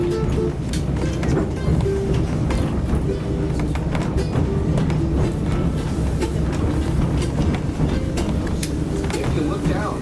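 A passenger train rides on rails with a steady, loud rumble and faint rhythmic clatter of wheels throughout, with no clear breaks.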